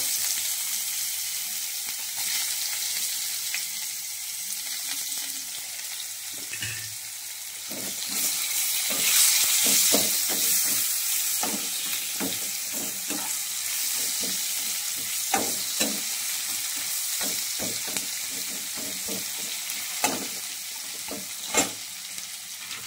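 Cardamom, cloves, a cinnamon stick and onion fry in hot oil for a chicken kosha, holding a continuous sizzle with repeated sharp scraping clicks from stirring that grow more frequent toward the end, with no voices.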